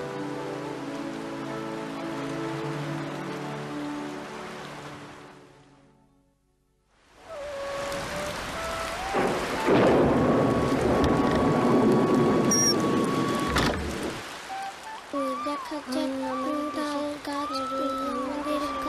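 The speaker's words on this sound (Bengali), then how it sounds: "যেইভাবে বৃষ্টি হইতাছে" Steady, dense downpour of heavy rain in a cartoon scene, a broad hiss that fades into brief silence and then returns loud, with tonal cartoon music and effects layered over it; no distinct thunder clap stands out.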